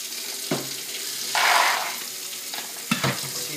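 Air rifle pellets agitated and rinsed in really hot water: a short watery rush and swish in the middle, framed by a few soft clinks and knocks, close and moderately loud with no talking.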